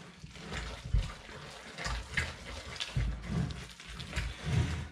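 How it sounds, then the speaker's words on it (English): Water is poured into a thick black pudding mix, a close, low sloshing and splashing in uneven surges. "Just add a little bit more water."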